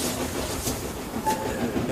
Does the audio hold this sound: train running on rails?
yes